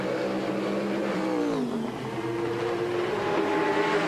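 A Stadler Porsche 911 GT2 race car circles Silverstone during qualifying, its engine droning steadily, rising and dropping in pitch through gear changes and throttle shifts, loud and continuous with no voices.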